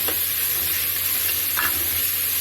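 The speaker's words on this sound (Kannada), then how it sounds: "ಇದು ಪುದೀನ ಸೊಪ್ಪು, ಮೆಂತ್ಯ ಸೊಪ್ಪು ಮತ್ತು ಕೊತ್ತಂಬರಿ, ಇದೆಲ್ಲವನ್ನು ಹೀಗೆ ಫ್ರೈ ಮಾಡ್ಕೋಬೇಕು" Mint, fenugreek and coriander leaves frying in a pan, a steady crackling sizzle with a couple of brief scrapes as the greens are stirred, no one speaking.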